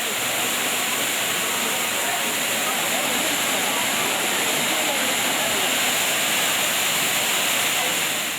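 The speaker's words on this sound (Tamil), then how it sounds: "குற்றாலம், ஐந்தருவி உள்ளிட்ட அருவிகளில் தண்ணீர் ஆர்ப்பரித்து கொட்டுகிறது" Courtallam waterfall pouring in heavy flow, a dense, steady roar of rushing water that stays loud and unbroken throughout with no pauses.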